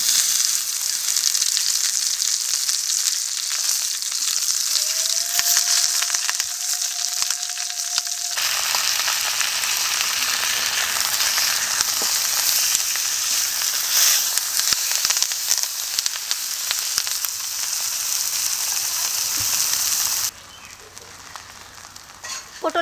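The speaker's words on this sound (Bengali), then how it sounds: "এখন মাছটা দিয়ে এপিটোপিট ভালো করে ভেজে নেবো" Fish wrapped in banana leaf fries on an oiled tawa with a steady close sizzle and crackle. The sound runs continuously, with small stirring touches, a brief tone near the start, and a softer tail at the end.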